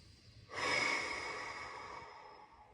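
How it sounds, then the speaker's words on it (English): A single audible exhale, close and breathy, rushing out after a quiet moment and tapering off gradually over about two seconds. "Exhale it out."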